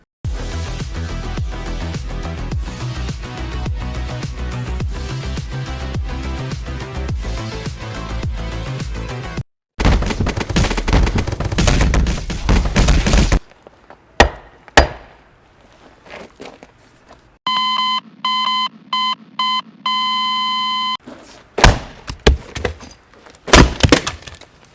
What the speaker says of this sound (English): grabbed a bunch of random metal tools I could bang on pieces of wood